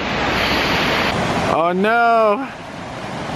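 A raging river swollen by heavy rain in the Great Smoky Mountains, Tennessee, gives off a loud, steady broadband rush of water, with a voice briefly exclaiming in the middle.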